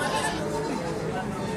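Sheep bleat close by in a pen, with short, wavering calls that overlap steady background chatter and people talking.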